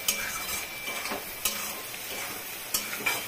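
Egg bhurji with spices is stirred in a pan, a close, steady sizzle broken by several sharp clicks and scrapes of the spoon against the metal, with no voices.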